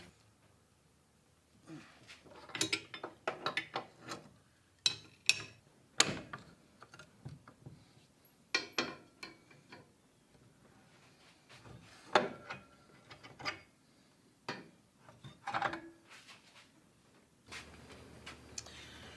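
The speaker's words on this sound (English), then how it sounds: "So we gotta just get this bolt loose here." A ratchet works loose a leaf spring bolt on a 1969 Dodge Super Bee, making quiet, irregular bursts of quick mechanical clicks separated by short pauses.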